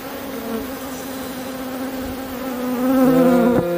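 Honey bees hum in a dense, continuous drone over the brood frames of an open hive. The buzz is close and steady and swells slightly louder near the end as individual bees pass by.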